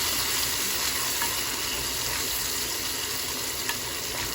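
Food with juice and butter sizzles steadily in a pan on medium heat while being stirred, a constant loud hiss with occasional faint scrapes.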